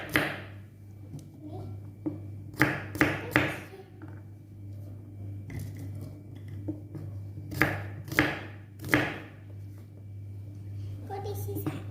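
A knife chops onions on a cutting board while Balinese squid pepes is prepared in a home kitchen, giving clusters of sharp, close taps over a steady low hum, with people talking throughout.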